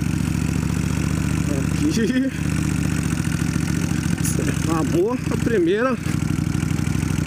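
Kawasaki Vulcan 1500 cruiser motorcycle engine idling with a steady low rumble throughout, someone speaking briefly over it at close range.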